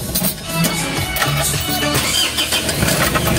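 A car engine that has been repaired after flood damage cranks and turns over, its steady mechanical rumble loud and close throughout with no one talking.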